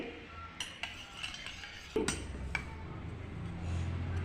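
Metal spoon clinking against a container while scooping rice bran oil, a few light scattered clinks and scrapes, close and fairly quiet with no talk.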